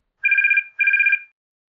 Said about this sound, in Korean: 시어머니에게서 전화가 왔습니다.